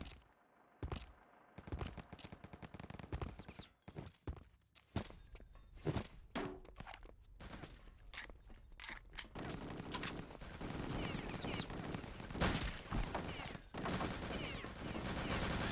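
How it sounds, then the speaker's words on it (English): Bursts of rapid gunfire and single shots in the video game Return to Castle Wolfenstein, clustered exchanges separated by brief gaps, growing denser and more continuous toward the end, with faint footsteps between volleys. "Here's a lot of gunfire"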